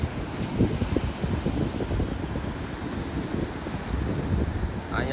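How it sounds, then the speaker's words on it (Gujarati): Strong wind sweeps across a seashore beside a temple flag, buffeting the microphone in a constant low roaring rumble with uneven gusts throughout. "પવન બહુ છે અમારે અહીંયા."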